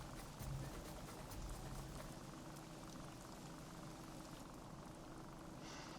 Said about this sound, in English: you can hear rain and storms above.